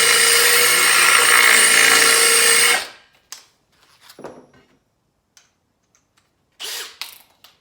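Power drill boring into porcelain tile, a loud steady high-pitched whine and grinding for nearly three seconds, then stopping, followed by scattered clicks, scrapes and brief handling noises.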